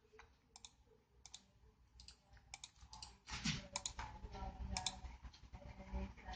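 Buttons clicked on a networked PC running a recycling machine demo, a quiet series of irregular mouse and key clicks that becomes busier and slightly louder partway through, with no talking.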